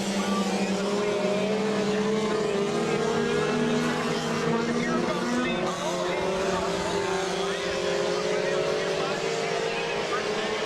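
Pure stock race cars roar past at a speedway feature, a loud continuous engine drone with rising and falling passes and crowd-level din throughout.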